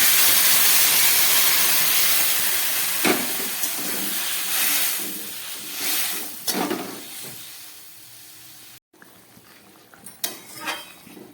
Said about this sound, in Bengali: এবার আমি এর মধ্যে দিয়ে দিচ্ছি এই উষ্ণ গরম জল